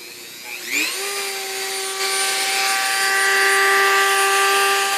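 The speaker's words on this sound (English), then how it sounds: "notch it with the Dremel tool" A Dremel rotary tool spins up with a rising whine and then grinds steadily, cutting notches into a Stanley stainless steel cook-set pot. The high, sustained buzz stays loud and close for several seconds with no talk.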